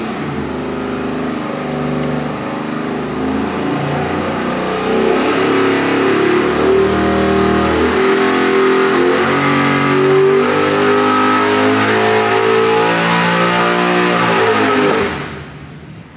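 A 441 cubic inch LS3 V8 with 12.0:1 compression, running on pump gas, pulls hard on a dyno. It drones loud and close, with rising engine tones that climb step by step before cutting off abruptly near the end.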